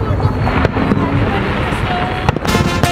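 Fourth of July fireworks bursting outdoors, a continuous rumble of explosions with sharper cracks standing out near the end, loud and close, with people's voices mixed in.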